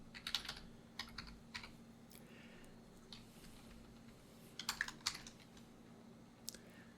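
Keys tapped on a computer keyboard while entering code, coming in a few quick bursts of clicks separated by pauses, fairly close and quiet over a faint steady hum.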